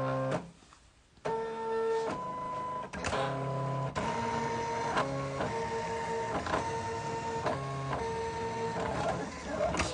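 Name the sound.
Silhouette cutting machine cutting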